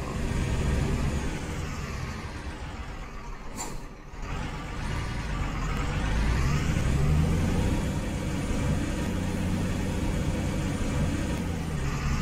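Vehicle engine noise in a driving game on deadly roads, a continuous rumbling drone with a car approaching and passing, loud and steady throughout with a brief dip midway.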